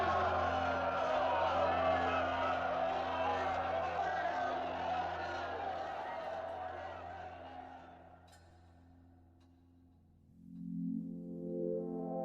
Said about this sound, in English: Now they're all cheering him, and the whole crowd have raised their right arm.